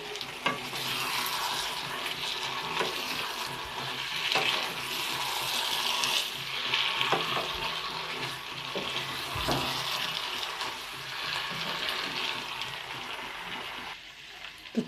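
Hot water poured into a pan of frying potato and jackfruit, a steady loud sizzle with bubbling and stirring scrapes, close and continuous.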